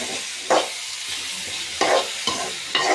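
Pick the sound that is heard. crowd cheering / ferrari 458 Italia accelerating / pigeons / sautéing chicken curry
sautéing chicken curry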